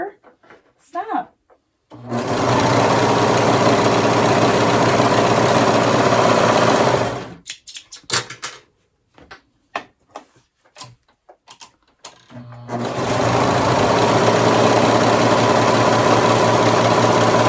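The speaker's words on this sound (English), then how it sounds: "So then it says to serge around the top and the bottom, and that's just going to help keep your fabric from fraying." A serger sewing machine stitches along fabric edges in two long, steady, loud whirring bursts, with a stretch of stop-start mechanical clicks and brief talk between the runs.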